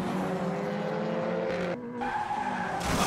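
Race cars spin out and skid on a circuit, tyres scrubbing loudly under steady engine roar, with a brief drop in sound before the engines surge back.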